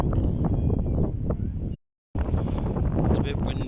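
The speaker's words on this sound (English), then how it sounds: "It's a bit windy" Strong wind buffets the microphone with a low, gusty roar at a nature reserve, cutting out for a moment before returning; some voices are faintly audible underneath.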